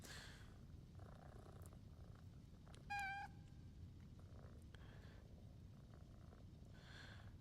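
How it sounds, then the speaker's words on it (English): Cats in the video game Powerwash Simulator 2 purr continuously in a low, rumbling loop, with one clear, rising meow near the middle standing out above the steady purring. "Those cats are really loud in this game."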